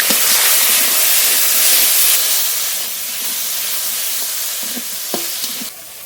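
Fish fry in hot oil in a Bengali home kitchen with a steady broad sizzle and hiss, a few sharp spits and pops toward the end before the sizzle eases slightly.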